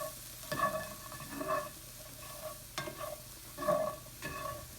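Vegetables and chorizo for a frittata cooking in a pan, a soft sizzle with several scraping stirs of a utensil at irregular intervals, fairly quiet and close.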